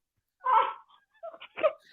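A dog lets out a few short, close whimpers and whines in quiet surroundings, with pauses between them, while something is pulled from its mouth.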